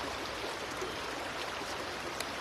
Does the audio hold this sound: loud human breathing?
no